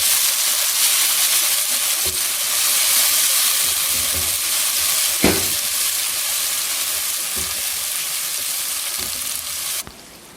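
Tomatoes fry with browned onions in a hot pan, giving a loud, dense, continuous sizzle with a stirring scrape near the middle, before the hiss drops away abruptly at the end.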